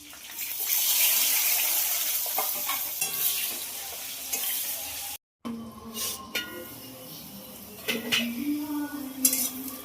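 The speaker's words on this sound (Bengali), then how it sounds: "পেঁয়াজ ভাজা হয়ে গেছে" Chopped onion frying in oil with bay leaf and whole garam masala, a loud hiss that eases off, then a brief gap followed by stirring scrapes and clinks of utensil against the pan.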